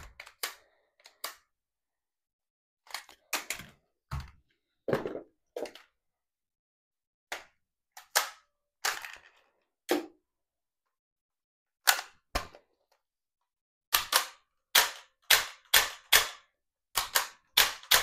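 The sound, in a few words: Gold Eagle Deadpool toy pistol firing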